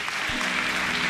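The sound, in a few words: audience applauding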